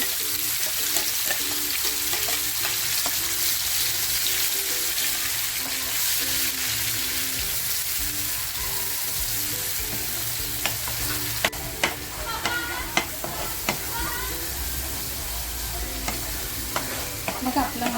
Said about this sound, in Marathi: जो मसाला करून घेतला होता ना तो मसाला तेलात टाकते